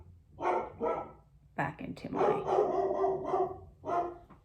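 A dog barks repeatedly nearby, loud and bursting in several short runs, while someone talks over it.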